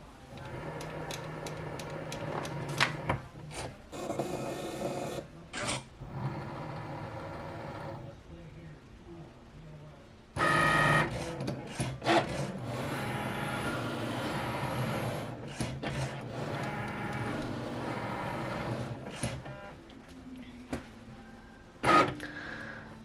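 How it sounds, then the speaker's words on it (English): A Cricut cutting machine working through cardstock, its motor whirring steadily with frequent clicks and carriage movements, close by with a voice speaking over parts of it. "once our Cricut light starts to blink, we can hit play and it'll start to cut."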